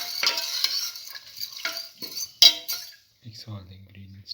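A spoon stirs a mung bean and rice mixture in a metal pot, with repeated scraping strokes and clinks in an uneven rhythm, followed by a short soft bubbling or sizzling sound near the end.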